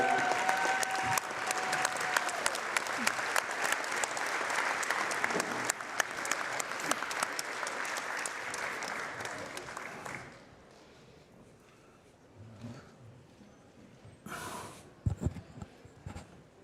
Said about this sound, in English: can I get everybody to stand up and give them a round of applause